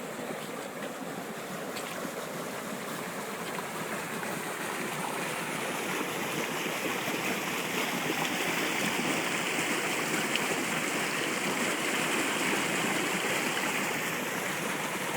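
Floodwater rushes steadily through an English village street after draining off the moors, a continuous broad roar of flowing water that holds constant for the whole stretch with no voices.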